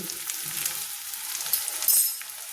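Cumin powder sizzling as it fries with ginger, garlic and green chili paste in a pan, a steady soft crackle with faint stirring, close and alone.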